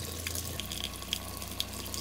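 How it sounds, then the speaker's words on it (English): Hot water tap running a thin steady stream inside a small camper trailer during winterizing, a continuous close hiss of flowing water with a few light splashy ticks. "I'm going to turn on the hot water, and there should be a little stream of water"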